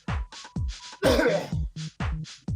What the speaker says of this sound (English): I've got this god awful cough.